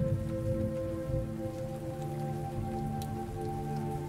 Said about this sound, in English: focus your attention on the sound of the rain and the thunder.